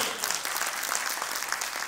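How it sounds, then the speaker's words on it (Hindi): Audience applause at a motivational speech event, a short burst of dense, steady clapping from a crowd, moderately loud and uninterrupted. "एक बार जोरदार ताली होनी चाहिए हमारे कमल नारायण सर के लिए"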